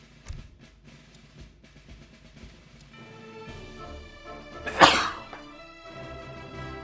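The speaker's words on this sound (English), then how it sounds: "I'm going to sneeze." A single sharp sneeze bursts out near the end, loud and close, after a stretch of quiet background sounds.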